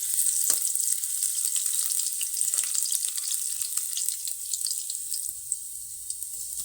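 Crushed garlic and ginger hitting hot oil in a pan, a bright hissing sizzle with scattered crackles and pops that slowly settles, close by with no speech.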